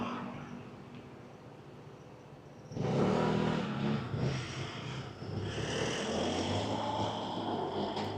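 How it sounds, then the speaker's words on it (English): A truck carrying construction workers drives past, its engine noise swelling suddenly from a quiet background and holding as a broad, rushing roar that stays fairly close. "Some construction workers in a truck."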